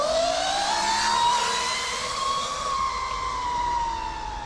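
A KO Moto electric motorbike motor whines loudly and continuously as it accelerates, the pitch rising steadily and then levelling off, close and alone with no talking.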